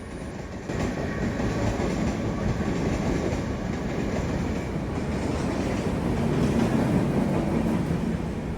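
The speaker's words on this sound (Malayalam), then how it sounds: "ട്രെയിനിലൊക്കെ കയറിയെന്ന് വെച്ചാൽ നമുക്ക് മനസ്സിലാക്കാൻ അത്യാവശ്യം നല്ല സ്പീഡിൽ തന്നെ പോകുന്നുണ്ട്" A Mumbai local train running at speed, a loud continuous rumble of wheels on rails with faint rhythmic clatter, heard from inside the carriage with no talk.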